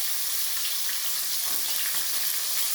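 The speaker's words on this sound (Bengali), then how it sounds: "মাছগুলো আমি ভেজে নিয়ে তারপর দেখাচ্ছি" Pieces of catla fish frying in hot oil in a home kitchen, a steady, close crackling sizzle that runs without a break and with no voices.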